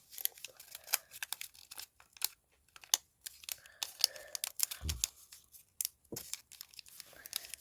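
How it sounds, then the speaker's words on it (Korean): Paper being folded forward by hand makes close, quiet crinkles, creases and crisp rustles in quick irregular bursts, with one soft thump midway. "이렇게 앞으로 접어주세요"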